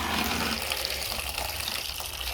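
Cassava water drains steadily in a continuous rushing gush of liquid, close and fairly loud throughout.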